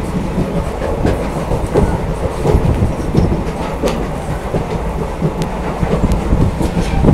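A passenger train on the Agartala to Silchar line runs with a loud, continuous rumble and irregular clickety-clack of wheels over rail joints, heard from inside with no talking.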